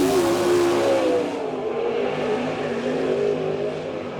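A race car at Port Royal Speedway howls past on a lap at an All Star Circuit of Champions event, its loud engine tone sliding in pitch as it sweeps by and recedes.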